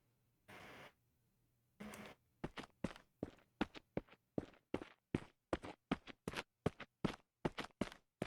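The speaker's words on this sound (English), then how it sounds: "all of his footsteps are on the right side speaker, while the character is on the left side of the screen" Steady run of a video game character's footsteps panned hard to the right, about twenty crisp, evenly spaced steps after two longer scuffs, close and fairly loud with no talk over them.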